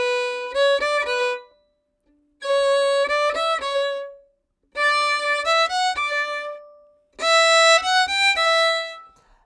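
Violin playing four fast runs of notes with the first of each group of four held long, bright and clear, each phrase separated by short pauses.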